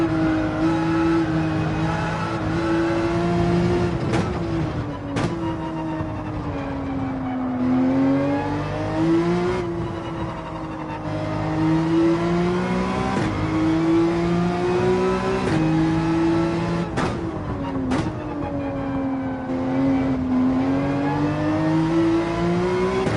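A race car engine in the Gran Turismo 7 racing game drones loudly and continuously, its pitch climbing and falling as the car accelerates and eases off, with sharp shift blips at intervals.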